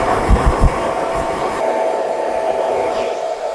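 A hair dryer blows on medium speed with high heat in a salon, a steady close airy whir with a faint tonal hum, briefly bumped by handling noises at the start.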